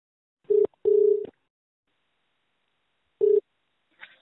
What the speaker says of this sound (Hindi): तो चलिए उनको फ़ोन लगाते हैं।